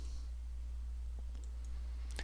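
A few soft computer mouse clicks, isolated and faint over a steady low electrical hum, with one sharper click near the end.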